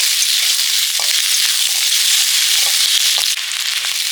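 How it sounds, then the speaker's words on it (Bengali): Onion and capsicum stir-fry in a hot pan for mixed fried rice, making a loud, continuous close-up hiss of sizzling oil with scattered small crackles. "পেঁয়াজ ক্যাপসিকাম হালকা ভাজা হয়ে গেছে"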